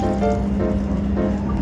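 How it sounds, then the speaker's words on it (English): Water poured from a measure into a rice cooker over cut sweet potato pieces, a steady continuous fill at close range lasting under two seconds, with no other sounds. "Add 50 milliliters water,"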